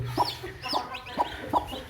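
A native hen brooding newly hatched chicks gives four evenly spaced, close clucks, with faint high chick peeps behind them and no voices.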